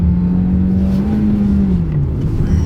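An MG HS SUV engine pulls hard after a downshift into second gear, a loud sustained drone that rises slightly then eases, heard from inside the cabin with road noise beneath.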